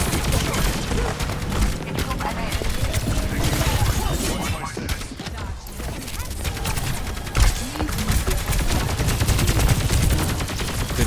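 Dense, continuous gunfire from the Overwatch shooter game, with rapid automatic shots, impacts and crashing effects, loud throughout the whole stretch, and voices occasionally mixed in.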